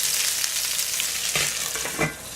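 Potatoes pan-fry in hot oil and butter over high heat, a dense continuous sizzle and crackle, close up, with a couple of brief stirring clanks near the end.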